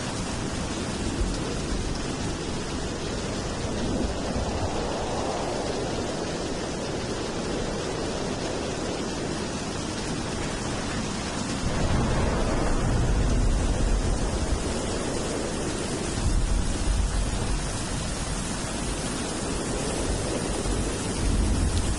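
Steady, dense synthetic rain hiss fills the whole stretch, with deep rolling thunder swelling and fading several times underneath.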